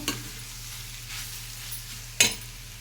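A spoon stirs grated coconut into sambar in a pot, giving soft scraping strokes under a gentle simmering sizzle and ending in one sharper metallic scrape.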